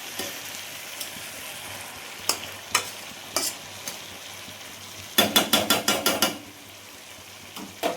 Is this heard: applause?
no